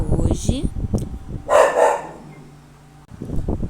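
A pet dog barks in a home during a remote class, giving a loud burst of barks between stretches of a woman's speech.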